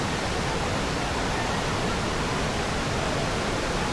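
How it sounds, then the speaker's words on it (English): A waterfall seen on a hike roars in a steady, loud broadband rush of falling water that holds unchanged for the whole stretch, with no voices over it. "This waterfall was really cool"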